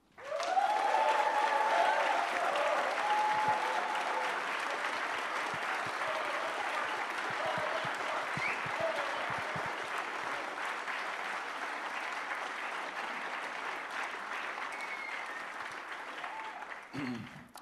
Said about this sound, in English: this is a big thank you and a warm applause for Lorenzo.